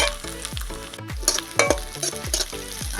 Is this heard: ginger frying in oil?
yes